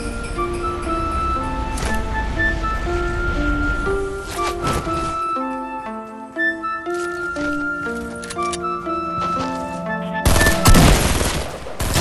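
Gunfire in the video game Fortnite, rapid bursts of shots over game music and effects, with a loud blast of noise near the end.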